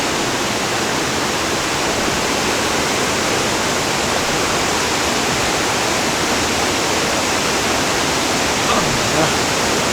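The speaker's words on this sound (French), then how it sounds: "la rivière s'est remplie" A river swollen by several heavy storms rushes steadily and loudly, a dense, unbroken roar of churning water with no pauses.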